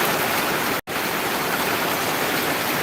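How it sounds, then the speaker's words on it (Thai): Heavy rain pours in a dense, unbroken hiss that stays loud and even, broken only by a split-second dropout near the start. "ฝนตกหนัก ครับ"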